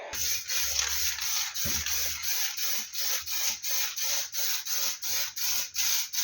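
An aerosol can with a swapped nozzle sprays primer onto the rear end of a Hillman Superminx, giving close, regular hissing bursts that pulse in a steady rhythm without talk.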